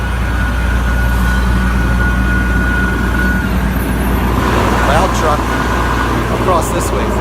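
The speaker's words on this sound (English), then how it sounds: "loud truck" A loud truck rumbles past close by, a heavy, steady engine roar that fills the whole stretch, with a brief tonal whine in the middle.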